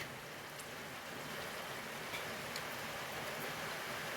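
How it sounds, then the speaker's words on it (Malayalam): Rain falls outside as a faint, even wash of steady patter, distant and uniform throughout with no other sounds standing out. "നല്ല മഴ പെയ്യുന്നുണ്ട്"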